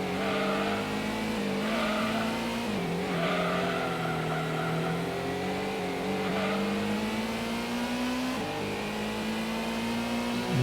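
Racing car engines in the PS1 game Gran Turismo, with a Supra close behind, whine steadily and loud, rising and falling as gears shift, with tire squeal through corners and no talk.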